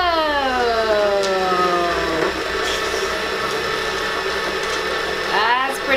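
A motorized egg spinner from Shark Tank whirs steadily and loudly, its pitch sweeping as it spins up and settles, with people talking excitedly over it.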